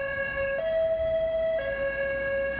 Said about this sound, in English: Change the tone of their siren from one monotonous high-pitched noise to a high-low pattern